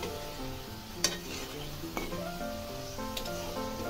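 Chicken pieces fry in hot white oil in a pan with a steady close sizzle, and a few sharp clinks of a utensil sound over the crackle. Faint music plays underneath throughout.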